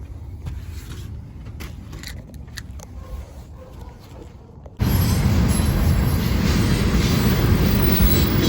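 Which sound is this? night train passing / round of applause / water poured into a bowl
night train passing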